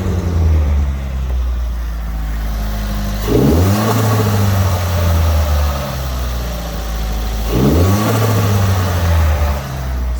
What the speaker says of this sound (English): Obviously you can hear that turbo flutter